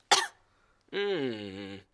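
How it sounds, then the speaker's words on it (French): A cartoon pig's sharp, close cough bursts out, followed after a pause by a long, drawn-out vocal groan or wheeze that slowly falls in pitch. "Mais regardez ce qui se passe quand je tousse."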